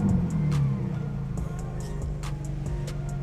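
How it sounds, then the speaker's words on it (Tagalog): Car engine on its stock exhaust revs briefly and then drops to a steady, fairly quiet idle, heard close with some faint clicks and background noise. "we have the stock exhaust on"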